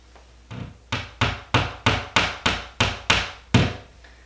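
Nine or ten evenly spaced hollow thumps from knocking on a wall to find a stud while hanging a model airplane, each a sharp close knock with a short woody decay, no talking.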